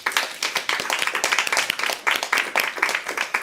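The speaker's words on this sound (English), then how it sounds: "please give an applause to the team and to yourself for supporting this great movement" A small conference audience claps at the Game Changer Conference with uneven hand claps that sound close and sparse rather than like a full roar.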